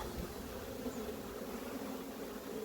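Steady, dense buzzing of many honey bees at a hive, a continuous low drone filling the air at moderate volume with no talking.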